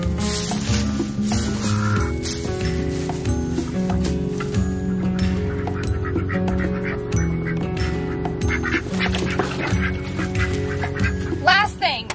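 Ducks around a straw-bedded duck coop quack intermittently, with a louder burst of calls toward the end, all over a dense, steady layer of tonal background sound.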